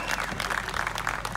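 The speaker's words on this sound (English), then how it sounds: "Round of applause to Cam Martin, winning again." Crowd applauding the winner at a street drift tandem competition, a dense, steady patter of clapping that holds evenly through the short burst with no voices standing out.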